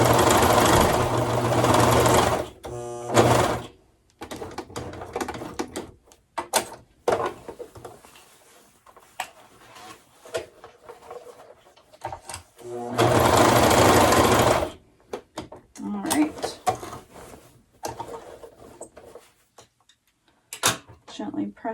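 A sewing machine stitching a skirt waistband, with loud bursts of rapid mechanical whirring separated by quieter pauses full of fabric handling, knocks and clicks, while a person talks in between.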